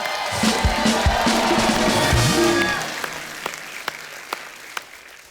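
A studio audience at a comedy talk show bursts into loud applause and cheering for a singer, then it thins to a few scattered claps near the end.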